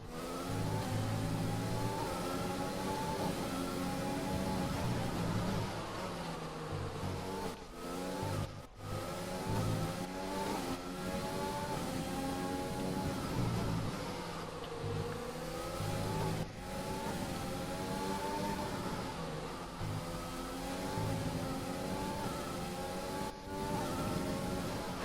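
Onboard with Bottas in a Mercedes AMG Formula 1 car at the Russian Grand Prix in the F1 2020 game: a loud, continuous high-revving engine whine rising and falling through gear changes, with brief sharp cuts during upshifts.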